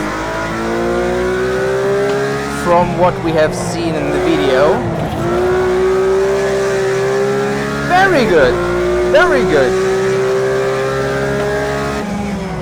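A Porsche GT3 RS drifting in a racing video game, its engine droning steadily and then revving in sharp bursts as the car slides, loud and close, with someone talking over the engine throughout.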